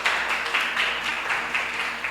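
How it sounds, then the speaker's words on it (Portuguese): Church congregation applauding, a steady, fairly distant wash of many hands clapping with a faint rhythmic pulse, continuous for the short stretch with no talking over it. "Vamos dar uma salva de palmas"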